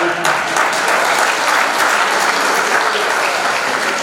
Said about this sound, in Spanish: Heriberto, un aplauso para Heriberto.